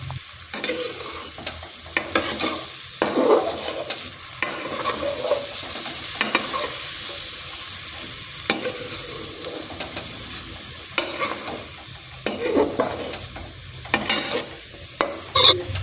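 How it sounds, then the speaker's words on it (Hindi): White chickpeas being roasted in masala in a pan: a continuous close sizzle with repeated scraping strokes of a spoon or spatula stirring, steady throughout, no talk. "चनों की अच्छी तरह भुनाई करेंगे ताकि चने मसाले में अच्छी तरह भून जाएँ"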